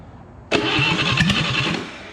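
An old carburetted engine primed with starting fluid briefly catches and fires, a sudden loud burst of rough cranking and combustion that sputters for over a second and then fades, close by with no talk.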